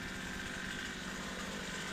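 A Stihl string trimmer engine fitted with a steel wire head runs steadily at a constant speed, a moderately faint, buzzing drone with no talk over it.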